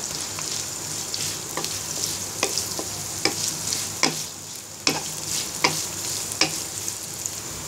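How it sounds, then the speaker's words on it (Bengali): Chopped onions sizzle steadily in oil in a pan, browning, while a utensil scrapes and taps at irregular intervals, close and fairly quiet, with no talking. "এবার পেঁয়াজটাকে ব্রাউন কালার করে ভেজে নিব।"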